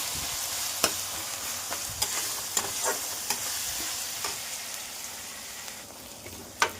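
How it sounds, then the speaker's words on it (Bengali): Onions frying in a pan for chicken kosha give a steady soft sizzle, broken by scattered sharp pops and the occasional click of stirring, with no voices. "পেঁয়াজটা একটু ভাজা ভাজা হবে, পেঁয়াজটা একটু গলবে।"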